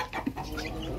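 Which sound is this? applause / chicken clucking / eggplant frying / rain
chicken clucking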